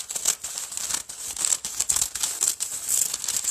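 Scissors cut a square from a sheet of paper during a craft session, giving a steady run of close, crisp crinkling snips and rustles with no talk over them.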